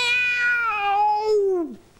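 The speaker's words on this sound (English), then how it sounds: "It was only a cat playing outside, my dear." A cat gives a single drawn-out meow that falls in pitch and fades, close and clear with no other sound around it.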